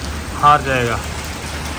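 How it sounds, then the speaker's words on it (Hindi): Heavy rain falls at Gaddafi Stadium in Lahore during a Pakistan vs New Zealand T20 match, a steady broadband wash under someone speaking briefly. "ये देखें बारिश बहुत तेज़ हो रही है।"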